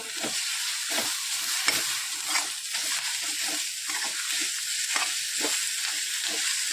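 A frying dish being stirred and mixed after a generous handful of fresh coriander goes in, steady close sizzle broken by repeated rhythmic spoon scrapes against the pan, no voices.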